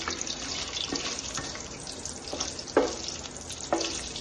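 Spices and cashews fry in a pan with a constant crackling sizzle, broken by a few louder stirring clatters near the end.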